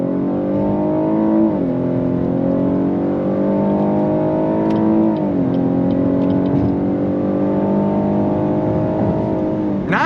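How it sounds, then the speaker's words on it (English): A 2023 Cadillac XT6 Sport pulls hard under throttle from inside the cabin, engine droning loud and steady and rising in pitch through each gear before dropping briefly at the shifts. "And then we're gonna go back on throttle here"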